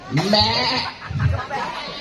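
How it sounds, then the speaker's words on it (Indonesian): Moko goats bleating close by, a few wavering cries over roughly two seconds, with a faint chuckle mixed in. "Ini kambing moko kita punya nih."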